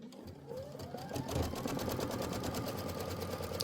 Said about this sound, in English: I am going to do the background placement stitch for the strip before I put my batting down